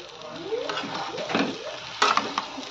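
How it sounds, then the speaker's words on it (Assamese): Potatoes and dried yellow peas for ghugni sizzle in a pan with fried spices, with a spatula stirring and scraping at close range. "এতিয়া অলপমান ভাজিম, আলু ঘুগুনি এনেকৈ ভাজিম"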